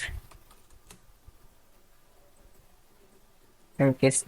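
Quiet computer keyboard typing of a folder name, soft sparse key clicks underneath, with someone speaking briefly at the end.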